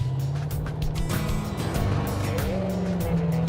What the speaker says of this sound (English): That hopefully does burnout.